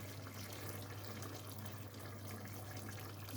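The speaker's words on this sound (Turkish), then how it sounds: "Sıcak su veriyorum." Hot water pours steadily into a pan of sautéed leeks, a continuous splashing stream heard close and alone with no talk.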